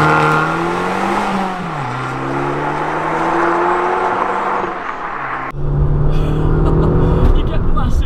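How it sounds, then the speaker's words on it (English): An Abarth car accelerates hard with a strong, rising engine note and gear changes, loud and close inside or beside the car, followed by a sudden burst of roaring revs near the end. "But I guess you get a chance to see what the acceleration is like now."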